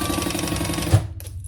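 A sewing machine runs a seam on a crossbody bag in a fast, even whirring rattle for about a second, then stops abruptly with a small clunk, close and clear with no voices.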